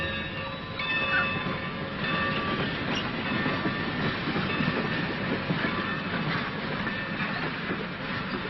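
A train rolls along steadily with continuous rumbling and faint rhythmic clatter of wheels on track, heard from on or near the cars in an old western setting, with no talking.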